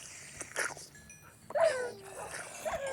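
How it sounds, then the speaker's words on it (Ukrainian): Pet dogs in Minecraft whimper and yelp in short, high, scattered cries while zombies attack them, mixed with other game sounds and moderately close. "Вони маленьких моїх песиків б'ють."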